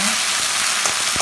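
Onions browned with garlic ginger paste frying in a pan for jackfruit curry, a close, steady broadband sizzle with faint pops.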